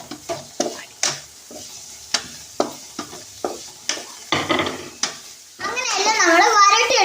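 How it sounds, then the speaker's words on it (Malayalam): Tomatoes fry in a pan while a spoon stirs them in regular scraping strokes, each stroke a short clatter over a light sizzle; a voice comes in near the end. "അങ്ങനെ തക്കാളിയും നമുക്ക് ഇളക്കി കൊടുക്കാം."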